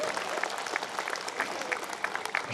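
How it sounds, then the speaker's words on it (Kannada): Applause at a Kannada comedy evening event keeps up for a couple of seconds. It sounds busy and crowded from a room full of people, with sharp individual claps standing out. "ಒಂದ್ಸಲ ಎರಡೂ ಕಡೆಯಿಂದ ಜೋರಾದ ಚಪ್ಪಾಳೆ ಇರಲಿ ಬಂಧುಗಳು"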